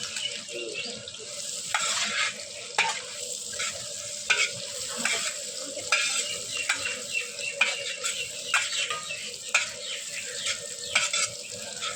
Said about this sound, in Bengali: তারপর গাজর ভাজা।